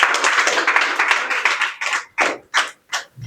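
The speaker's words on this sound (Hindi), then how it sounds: "अपने लिए, मेरे लिए तालियां बजा दीजिएगा।" An open mic poetry audience in Delhi claps, a dense burst of applause that breaks apart into a few separate, spaced-out claps before fading.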